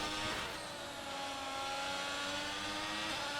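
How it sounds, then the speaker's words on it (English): A race car engine revving at maximum in sixth gear at Monaco, a sustained high-pitched howl, steady and loud. "Why was he maxing out revs on 6th gear then Piccoloco instead of just gearing up?"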